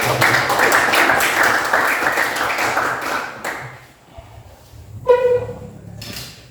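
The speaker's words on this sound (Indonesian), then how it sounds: "Kita berikan aplaus lagi dulu" A classroom of students clapping together, a dense, loud burst of applause lasting a few seconds that cuts off abruptly, followed by quieter room noise and a short voiced sound.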